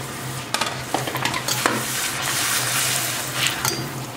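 Puris for pani puri sizzle steadily in hot oil, a close crackling hiss with light clinks and stirring taps of a utensil against the pan.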